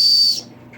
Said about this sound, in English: I carry this whistle in case somebody kidnaps me